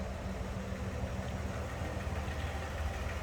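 A 1964 Ford F100 pickup truck engine idles steadily, a low rumbling drone with a faint irregular knock, close and continuous.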